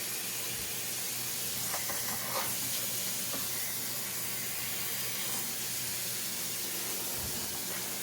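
Water poured into a hot pan while cooking a scrapped potpie, giving a steady steam hiss that runs the whole time with faint clatter, fairly quiet and without speech.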